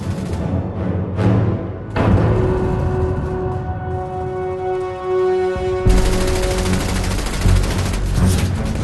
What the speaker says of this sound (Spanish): Ligera, fiable y fácil de utilizar, las MG-42 tenían un alcance de casi 1 kilómetro.